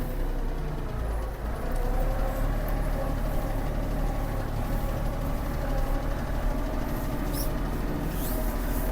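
A Kubota GL-320 mini tractor engine runs steadily in a high gear, a continuous low diesel drone with a faint higher whine on top, close and unbroken with no talk.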